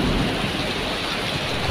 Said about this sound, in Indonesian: Hujan dari tadi nih, gede banget